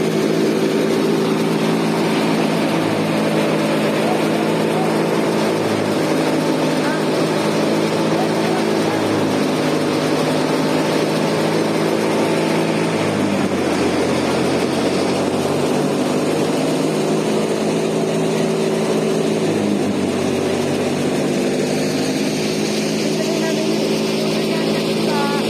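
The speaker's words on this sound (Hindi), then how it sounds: "ट्रैक्टर से ऐसे जोड़ के मशीन को चलाया जाता" A tractor-driven wheat threshing machine runs in a farm field, producing a loud, close, continuous mechanical drone with a steady rumbling hum and slight swells in pitch over the whole stretch.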